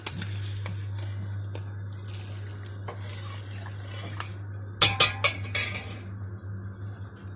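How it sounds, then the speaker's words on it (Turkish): A spoon scoops sugar into homemade pine cone syrup, giving a quick run of four or five sharp clinks and scrapes midway, over a steady low background hum with faint rustling. "Bu kaşıkla arkadaşlar 6 kaşık şeker koyuyorum."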